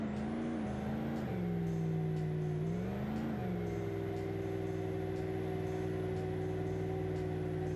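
Ram pickup truck pulling away in the BeamNG.drive driving game, shifted out of four-wheel drive: a steady simulated engine drone that rises and falls in pitch a couple of times, then holds a constant tone, faint and continuous.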